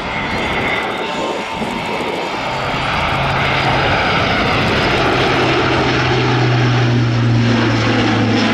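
Airbus A400M military transport aircraft in a flying display at an air show, its turboprop engines droning loudly and continuously as it passes, with a steady propeller hum building slightly and a voice talking faintly underneath.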